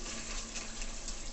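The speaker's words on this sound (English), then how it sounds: "I'm gonna add some water for it to simmer." Water pours steadily into a hot pot of simmering pepper steak, a brief, even rushing hiss with no pauses and no talk over it.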